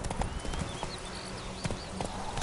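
A horse trots in The Witcher 3: Wild Hunt with a steady clip-clop of hooves, close and moderately loud, over a dense outdoor ambience with faint bird chirps.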